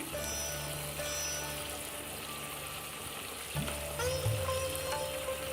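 Puliyogare tamarind mixture with puliyogare powder cooks in a pan, giving a steady close sizzling bubble with occasional soft stirring scrapes and a low background hum, no talk.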